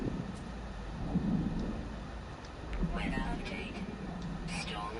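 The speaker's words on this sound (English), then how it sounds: "Ah, the storm's clearing." A thunderstorm rolls through the No Man's Sky game world, with steady rain hiss and low rumbling thunder swelling and fading beneath faint background talk.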